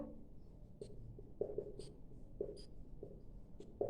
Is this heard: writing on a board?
yes